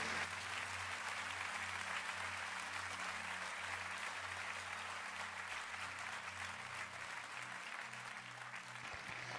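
A church congregation applauds in praise of God, a steady, moderately distant wash of clapping lasting throughout, with a low sustained musical hum underneath.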